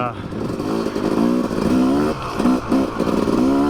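A Yamaha YZ 250 dirt bike engine on a trail ride revs and burbles up close, with rising and dropping throttle blips and mechanical clatter, while a voice talks over it.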